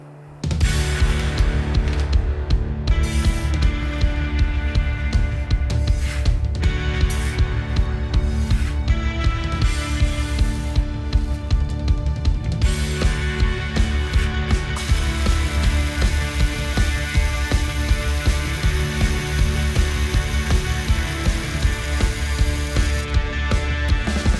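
A grain mill grinds malt for a Vienna lager in a homebrew setting, giving a continuous loud rattling, whirring drone that runs unbroken for the whole stretch with no talk.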